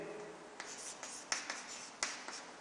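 Chalk or marker writing on a board during a number theory lecture, with soft scratching strokes punctuated by several sharp taps, close and fairly quiet over room hiss.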